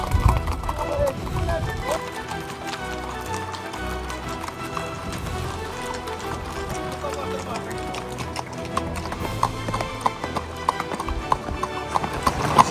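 Horses travel in a large mounted group across the Naryn region of Kyrgyzstan, hooves clip-clopping in a steady uneven patter with an occasional whinny, while a narrator speaks over the sound.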